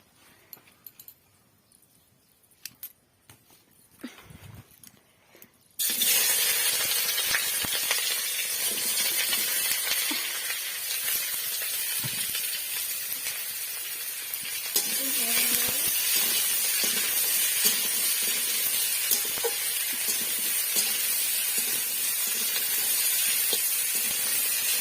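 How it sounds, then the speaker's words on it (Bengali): Whole spices for a Bengali tempering hit hot oil with a sudden loud hiss after a few quiet seconds with faint clinks, then sizzle steadily. A fresh surge of frying follows as vegetables go in. "দেখো, এবার ফোড়ন দিয়ে দিলাম।"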